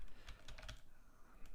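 A computer keyboard clicks out an HTML5 doctype declaration as a few quick, light keystrokes in a faint, close, quiet room.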